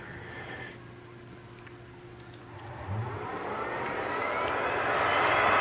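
A 3 kW GMT CNC spindle driven by a Fuling inverter spins up toward 15,000 RPM, its steady whine rising in pitch and growing louder over a few seconds, heard close up with no talk.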